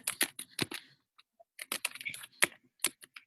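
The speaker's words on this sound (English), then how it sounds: "Now, type in their name" Bursts of clicking keystrokes on a computer keyboard, quiet and close, in two quick flurries with a short pause between.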